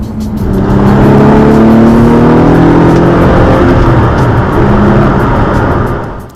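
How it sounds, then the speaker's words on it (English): A 2011 Lotus Evora S engine bellowing loudly and close as it pulls through gear changes, with a rising, sustained roar that swells and holds before easing off at the end. "The gearbox really just encourages you to kind of bellow through the changes."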